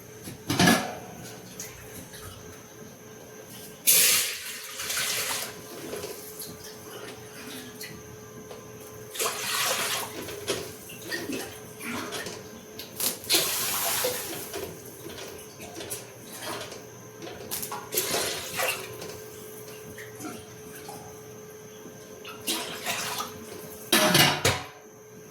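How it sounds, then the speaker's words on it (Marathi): Water splashes and trickles steadily into a cooking pot with a little oil in it, in a home kitchen while dal is made, with several louder gushing bursts over a constant low pouring sound. "याच्यामध्ये आता आपल्याला ॲड करायचे पाणी."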